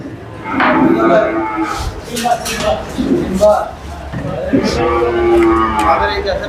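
Cattle moo repeatedly at a busy Bangladeshi cattle market beside a makeshift food stall, the calls loud and near amid people talking and clattering dishes.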